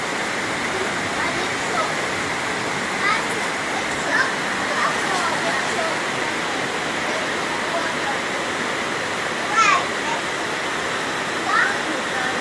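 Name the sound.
rushing flood water in Jamaica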